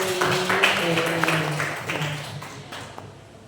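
Seminar audience in Surakarta applauding, a brief burst of scattered clapping over lingering room noise that tapers off within a few seconds.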